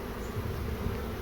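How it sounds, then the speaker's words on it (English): Dense swarm of honey bees buzzing continuously during removal of a huge hive, a close, steady low drone with no voices over it. "Okay, slowly getting the bees out."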